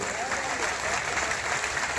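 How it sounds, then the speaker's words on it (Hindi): Dense, continuous clapping from a large crowd at a political rally in Hisua, Bihar, a steady roar of applause with voices mixed into the noise. "एक बार जोरदार ताली अपने दोनों बड़े नेताओं के लिए, उपेंद्र कुशवाहा के लिए, अपने चिराग पासवान"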